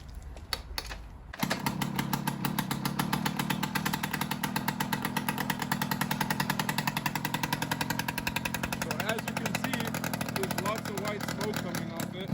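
A moped engine, its choke on, starts after a short burst of cranking and then runs in a steady, rapid buzzing putter. It stays loud and close throughout.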